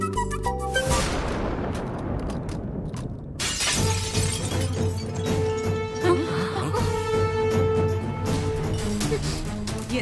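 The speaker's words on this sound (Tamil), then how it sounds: "என் அண்ணி போட்டோ இப்படி விழுந்து உடைஞ்சு போச்சு" A framed photo falls and shatters with a sharp crash of breaking glass, followed by a dramatic musical sting and sustained tones in a Tamil TV drama scene.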